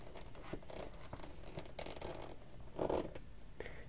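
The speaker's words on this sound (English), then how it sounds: "The easiest way to start the roll of paper is to take an extra wide flap like that and fold it down underneath the pencil." A sheet of paper being rolled tightly around a pencil, with a wide flap folded under it, gives soft crinkling and scratchy rustles in a few short bursts. A louder crumple comes near the end, close and quiet, with no talk.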